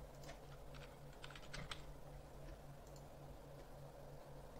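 Soft clicking keystrokes on a computer keyboard, a short run of quick taps over a low steady hum, faint and without voices.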